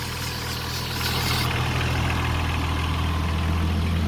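A Holden Commodore Ecotec 3.8 litre V6 idles steadily with a low, even drone and a faint ticking from worn, noisy tappets, close and unchanging throughout, with no talking.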